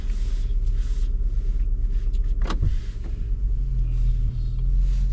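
A car pulling away to start a drive after warming up on a sunny day with melting snow, its engine rumble steady and close, with a brief whine partway through and no talk.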